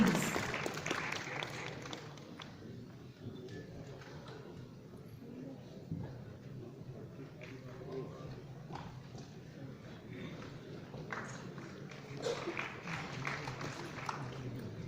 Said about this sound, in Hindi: आपकी तालियों की अनुगूंज